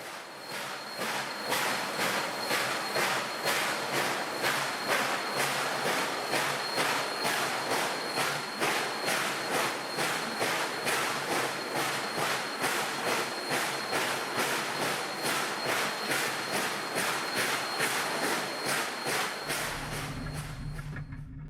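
Steam locomotive number 316 on the Texas State Railroad works hard to start a train up a grade, giving a long series of loud, evenly spaced exhaust chuffs with a steady rhythm and a low rumble that settles near the end.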